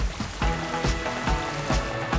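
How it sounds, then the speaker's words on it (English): Heavy rain downpour effect for a television weather sponsor ident: dense, loud hiss of falling rain with a few sharper splashy spatters recurring at regular intervals, no voices. "Expect a heavy downpour."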